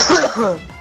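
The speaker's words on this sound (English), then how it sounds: "I coughed." A single short, harsh cough, close by, with nothing else around it.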